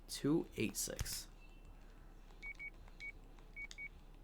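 A phone number is dialed in a horror video game, heard as a short run of clean electronic keypad beeps in quick succession. Game audio rises and someone talks just before.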